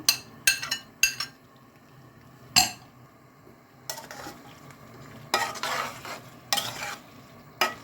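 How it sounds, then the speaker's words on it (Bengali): Tomatoes are stirred into country chicken frying with potatoes in a pan. A spoon scrapes and clinks against the metal in irregular loud strokes over a soft sizzle, with no talking. "এখন টমেটো দিয়ে দেবো।"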